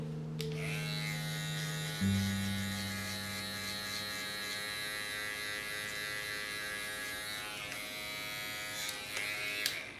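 An electric hair clipper buzzes steadily and close up during a mid fade haircut, a constant tonal hum that shifts pitch slightly as the blade works through hair, with no talking.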